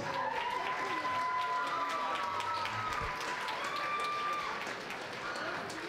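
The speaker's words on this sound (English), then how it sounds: "David and Vu, ladies and gentlemen, round of applause" Wedding guests applauding after a friends' speech, sustained clapping and some cheering from a room full of people, with voices mixed in underneath.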